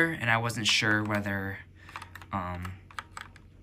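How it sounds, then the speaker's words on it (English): Arrow keys on a computer keyboard tapped while playing Roblox on a Raspberry Pi 5, light clicks scattered after a person speaks briefly near the start. "let me use the arrow keys"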